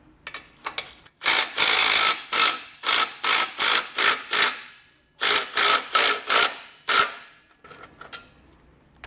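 Hand ratchet tightening bolts on a Blue Ox base plate kit on a 2024 Jeep Wrangler Unlimited, loud close bursts of rapid clicking in repeated strokes with short pauses between them.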